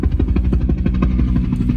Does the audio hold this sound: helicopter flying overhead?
yes